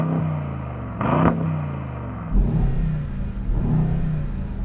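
A Brabus 900 Rocket R, a Euro 6 compliant high-performance car, revs its engine in a few sharp blips, each rising and falling, close and loud with no talk.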